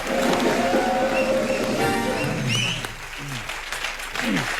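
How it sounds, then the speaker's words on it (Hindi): Audience applause from a studio crowd welcoming a guest onto a talk-show stage, loud and steady throughout, with music and a host's voice partly mixed underneath. "तालियां जरा जोरदार हो जाए।"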